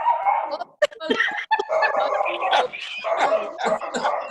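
A dog barking and yipping during a birthday video call, with sharp yelps and whimpering howls mixed into a busy stretch of overlapping voices and singing.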